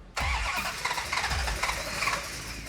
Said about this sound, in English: When you hear an engine crank so easily and it doesn't quite want to fire